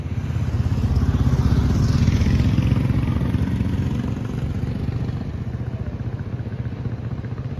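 A Royal Enfield Bullet motorcycle engine runs close by on a trip near Manali, Himachal Pradesh, with a steady, loud low thumping rumble that swells slightly and then settles, heard alone without talk.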